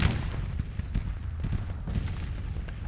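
Artillery fire from the Grand Tactician: The Civil War video game, a steady rumble of distant booms and scattered gunshots rolling continuously without voices.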